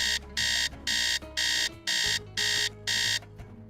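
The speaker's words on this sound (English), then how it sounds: "Set the alarm for 8." An alarm clock in the Nancy Drew video game rings in seven evenly spaced, loud electronic beeping bursts that repeat in a steady rhythm and stand alone without talk.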